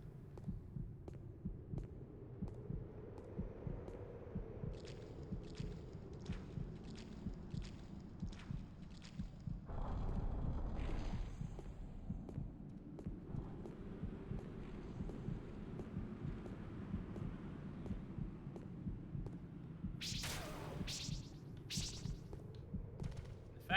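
A steady, throbbing heartbeat from a video game pulses in a low, even rhythm throughout, with a faint hum beneath and a few brief clicks and a short burst of noise along the way.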